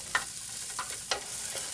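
Onions sizzle and fry in a hot pan for spaghetti sauce, a steady hiss broken by a few sharp scraping stirs, close and moderately loud with no talking.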